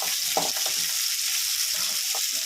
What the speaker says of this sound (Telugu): ఆనియన్స్ బాగా వేగాలి